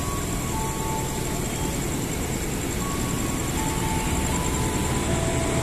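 A KRL Tokyu 8518 series commuter train at Depok Baru station gives off a steady, broad rumble with faint high tonal whines from its motors, continuous and fairly loud throughout.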